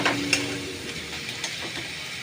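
Turmeric, coriander and cumin frying in a pan, a soft steady sizzle with light scraping and stirring clicks, close and fairly quiet.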